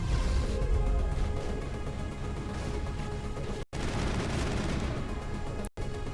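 Gunfire in the sci-fi shooter Mass Effect on the planet Ilos, a continuous clatter of rapid shots and impacts at moderate volume, briefly cut by two short silent gaps.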